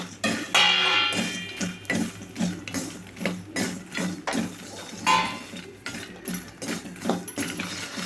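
Makhana (lotus seeds) is stirred with salt, pepper and spices in a pan, giving a steady rhythm of metallic spoon scrapes and light clinks, close and distinct, repeating about twice a second with no talking.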